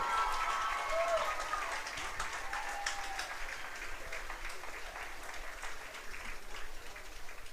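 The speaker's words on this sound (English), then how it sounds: "Please give a huge round of applause to all of our candidates and our new royalty." A crowd applauds at a homecoming varsity football game, a faint, distant wash of clapping that fades slightly over time, with voices and a brief tonal sound early on.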